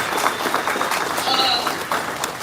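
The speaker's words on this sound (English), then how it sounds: "So give Mayor Carstarfin a huge round of applause." A crowd applauds the mayor steadily at the Franklin Square PATCO station reopening ceremony, a dense wash of clapping filling the space with a few louder bursts, nearby and sustained.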